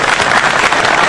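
Loud, dense applause from the audience at a Hindi comic poetry gathering (kavi sammelan), a steady wash of many hands clapping at once throughout the short moment.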